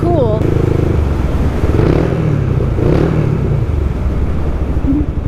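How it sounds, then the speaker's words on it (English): A 1990 Honda GB500 cafe racer motorcycle engine revving hard and close, loud throaty rumbles swelling a couple of times under a busy, echoing roar downtown. "I can rev my engine"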